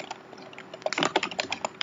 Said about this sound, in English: This keyboard is sticking pretty bad.